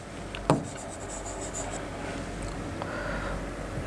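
Marker or chalk scratching and rubbing on a board during a class 10 statistics lesson, steady and close, with a sharp tap near the start and no talking.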